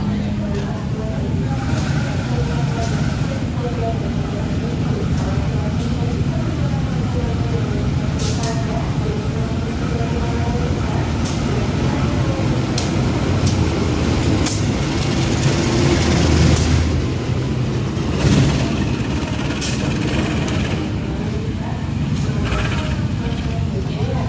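Diesel locomotive CC 201 89 12 shunting in a rail yard gives a steady, loud engine rumble that runs throughout, with a voice speaking over it and occasional higher hisses.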